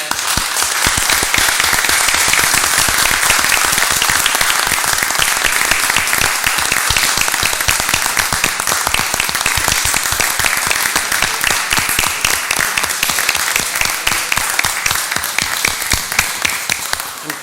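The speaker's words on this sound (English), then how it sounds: "Help me give them a nice round of applause." An audience at a city council meeting applauds a Little League team on its 50th anniversary, loud sustained clapping from many hands that holds steady for the full stretch.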